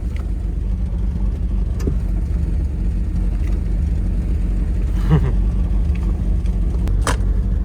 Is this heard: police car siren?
no